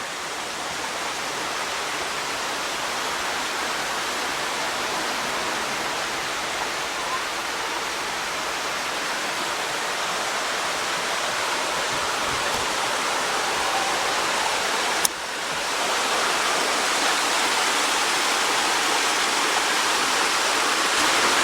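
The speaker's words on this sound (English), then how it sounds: "It's just beautiful looking out at the waterfall out there." Acrigg's Falls, a waterfall seen from a cabin porch, pours as a broad, constant rushing hiss that stays loud and even the whole time with no voices.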